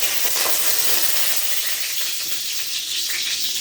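Dried red chillies and bay leaves fry in oil in a wok, giving a steady, bright hiss that runs unbroken and close throughout.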